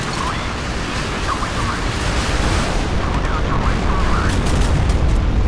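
A warship blows up in the Modern Warships naval combat game with a sustained roaring, crackling blast over steady mechanical rumble, loud and continuous with faint chirping alerts mixed in.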